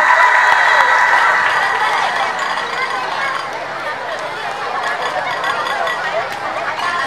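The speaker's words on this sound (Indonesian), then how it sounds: "Tepuk tangan untuk kita." Applause from a crowd at a nighttime prize-giving event for a Mandi Safar festival, starting loud and tapering to a lighter patter, mixed with cheering and crowd chatter.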